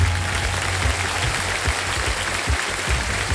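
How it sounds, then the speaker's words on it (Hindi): A TV quiz show studio audience claps enthusiastically, dense sustained applause that holds steady for a few seconds without speech. "जोरदार तालियां बजती रहें इनके लिए।"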